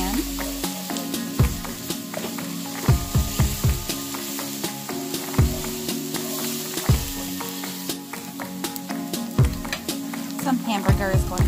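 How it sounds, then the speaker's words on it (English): Garlic paste sizzles and fries in a pan while a utensil stirs and scrapes it, steady frying hiss with repeated scraping knocks throughout, close and fairly loud, no talking. "I'm going to add some garlic paste. Keep stirring it so it doesn't burn to the bottom of the pan."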